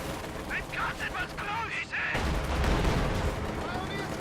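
Grenade blasts and gunfire in a World War II tank strategy video game featuring StuG and T-34 tanks, heavy rumbling explosions building into a dense, sustained roar of fire.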